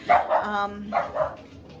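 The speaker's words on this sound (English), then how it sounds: "They're not hot dogs, they're sausage dogs." Dachshunds bark in a quick pair of close, loud yaps, pause, then yap twice more, with a faint whine drawn out between the barks.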